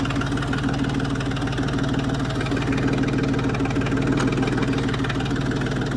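A tractor engine idles loud and close, a steady low throbbing rumble with a regular knocking pulse and no talk over it.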